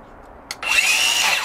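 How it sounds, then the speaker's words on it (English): A Milwaukee M18 cordless circular saw, a short click then a loud, steady whining spin-up held close by for about a second, alone with no talk. "We have a Milwaukee M18 circular saw."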